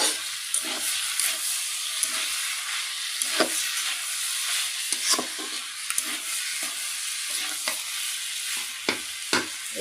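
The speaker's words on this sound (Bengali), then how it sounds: "ফুলকপি আর আলু দিয়ে আমি এই যে ভাজিটা চুলাতে করে দিয়ে দিচ্ছি" Cauliflower and potato bhaji frying in oil on a stove, a continuous close sizzle broken by repeated scraping stirs at an irregular rhythm, with no voices.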